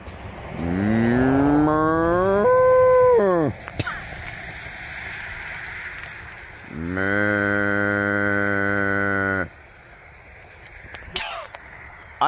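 A voice imitates a cow mooing with two long, loud, drawn-out lowing calls separated by a pause, close up and over a faint background hiss.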